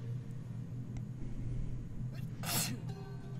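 A short, sharp sneeze from a character in the Deponia video game stands out over a steady background hum.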